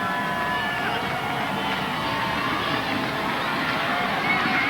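A football stadium crowd roars steadily for the SMU defense in a 2001 college game against Hawaii, a dense, sustained wash of cheering and shouting with no breaks.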